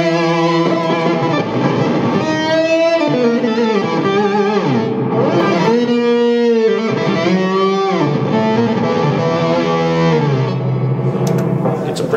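Electric guitar through a Tube Screamer overdrive pedal plays sustained, gritty distorted notes and bends up close, continuous and loud with no talking.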